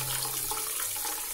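A bidet sprayer hose with weak water pressure, giving a thin, steady hiss of trickling spray close up and without pause.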